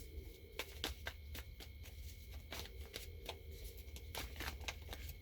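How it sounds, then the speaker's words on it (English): Playing cards are shuffled repeatedly, giving quick riffling bursts at an uneven pace, faint and close, with no talking. "Why so many shuffles?"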